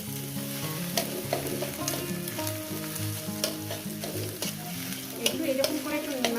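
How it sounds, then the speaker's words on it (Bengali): Ivy gourd frying in a pan sizzles steadily while it is stirred, with a spatula scraping and clinking against the pan at irregular moments over a continuous hiss. "নাড়াচাড়া করে নেব প্রায় আমার সিদ্ধ হয়ে গেছে"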